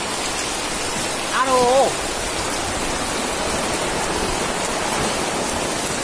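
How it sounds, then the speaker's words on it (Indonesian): Heavy rain pours down in a steady dense hiss during a flood, with a brief voice exclaiming partway through. "Hujannya deres loh"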